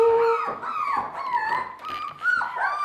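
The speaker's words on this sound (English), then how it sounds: "Oh, little puppies." Close, high-pitched Australian Labradoodle puppy whimpers and whines, several rising and falling cries in quick succession with no talking.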